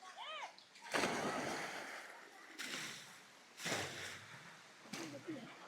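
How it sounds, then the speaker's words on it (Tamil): Friends dive one after another into a lake at a dam, three or four heavy splashes spaced a second or two apart, each followed by sloshing water, with voices and shouts around them. "நண்பர்களாக வந்து பாருங்கள் எப்படி வந்து டைவ் அடிக்கிறாங்கன்னு பார்க்கலாம் வாங்க"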